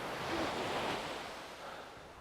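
Sea waves breaking on the beach at Huttoft on the Lincolnshire coast, a steady broadband wash of surf with some wind buffeting, fairly close and continuous.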